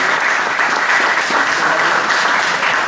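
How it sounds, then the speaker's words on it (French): An audience at a conference talk for a toy exhibition gives a warm round of applause, a thick and even wash of many clapping hands, loud and unbroken throughout with no speech over it. "Vous pouvez l'applaudir"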